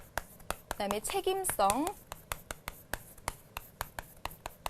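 Chalk or marker strokes tap and scratch on a classroom board in a steady series of short, crisp marks, with a teacher speaking Korean briefly over the first half.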